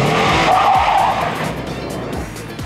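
A turbocharged Subaru Forester with a manual gearbox launches hard, its engine roaring loud and close with squealing tires, then the roar eases slightly over a few seconds, with no talking.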